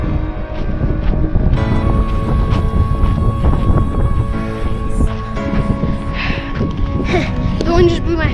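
Strong wind gusting outdoors on a backpacking trail in the snowy Eastern Sierra mountains, a steady rushing buffet against the microphone, with voices talking over it.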